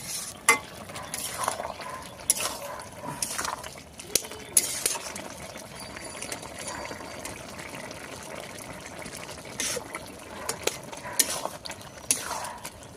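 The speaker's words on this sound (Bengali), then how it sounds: "একটু নাড়িয়ে নিচ্ছি, দেখি বেগুন শাকটা সেদ্ধ হয়ে গেছে নাকি।" A spoon scrapes and stirs through a pan of cooking spinach, brinjal and potato curry, with repeated scraping strokes and wet clatter at close range and no talking.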